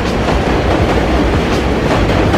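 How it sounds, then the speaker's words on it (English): A train rumbles past close by near the Queensboro Bridge in New York, a loud, steady roar with a clickety-clack of wheels over the rails throughout. "here comes the train."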